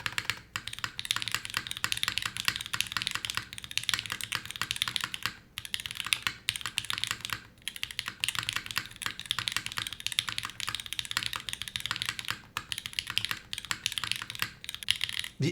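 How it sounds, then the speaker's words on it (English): A custom mechanical keyboard fitted with Deeping switches is typed on steadily, giving a dense, even stream of crisp, close clacks and taps with brief pauses. "Wow, the deeping switch sounds really good."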